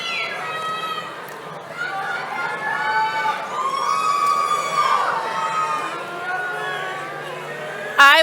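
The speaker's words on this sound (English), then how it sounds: "I would just like to give one more huge round of applause and celebration to this year's Sandy High School class of 2022." A large crowd cheers and shouts at the Sandy High School class of 2022 graduation ceremony, with whoops and whistling rising over steady chatter for about eight seconds before a sharp burst near the end.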